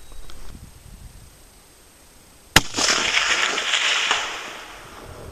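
A Howa 1500 .30-06 rifle fires Hornady 150-grain full metal jacket rounds at a target 400 yards away, producing one sharp, loud crack amid faint outdoor ambience, followed by a hissing, rumbling decay.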